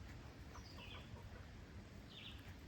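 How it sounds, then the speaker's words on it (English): Chickens at a resort farm pen cluck softly with a few brief higher calls, quiet and somewhat distant over a steady outdoor background hum. "Nice looking chickens, eh?"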